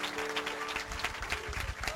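A church audience applauds and cheers for Jesus during a French-language worship service, a dense, steady wash of clapping with raised voices mixed in.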